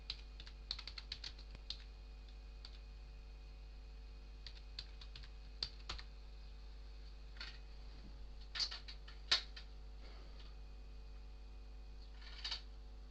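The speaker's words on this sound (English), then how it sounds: "He's typing anyway" A player types on a computer keyboard during an online tabletop game session, faint close clicks in scattered bursts and single taps with long quiet gaps over a steady low hum.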